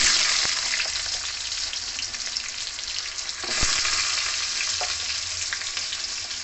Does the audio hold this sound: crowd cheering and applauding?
no